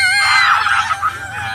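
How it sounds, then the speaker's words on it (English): The monster Grendel lets out a single loud, anguished scream, a sustained shrieking wail that wavers and trails off over about a second and a half. "Scream."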